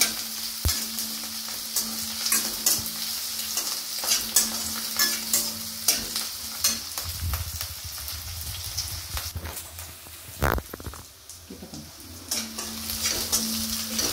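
Mint and coriander leaves fry with mushrooms and onions in a hot pan, a continuous crackling sizzle broken by repeated scraping stirs and a few clattering knocks of the spoon against the pan.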